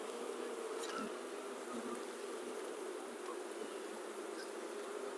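Honeybees on a brood frame lifted from a hive fill the air with a steady, close, dense buzz that holds an even level throughout, with no voices.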